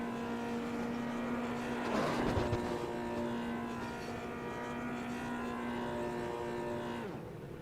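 Formula 3 racing game car doing a celebratory burnout, a loud steady engine drone with a sustained high rev held throughout, rising briefly around the second mark and cutting off near the end.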